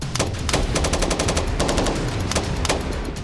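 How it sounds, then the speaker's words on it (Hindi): Israeli army soldiers at urban war practice fire rapid bursts of automatic gunfire, dense and loud, with sharp cracks echoing among buildings. "इमारतों के अंदर घुसकर गोलीबारी करने का अभ्यास कर रहे हैं"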